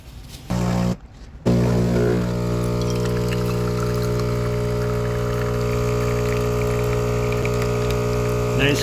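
A Philips EP3246 espresso machine pumps hot water through its coffee spout, a steady loud mechanical hum with a watery rush that starts after a short pause and runs continuously to the end.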